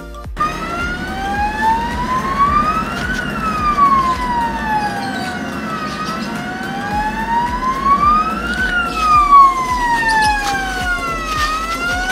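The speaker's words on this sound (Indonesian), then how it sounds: "maka sirene akan menyala sebagai peringatan untuk peternak" A loud wailing alarm siren in a broiler chicken house air-quality monitoring system sweeps steadily up and down in long cycles, with a layered electronic tone, sounding close and continuous.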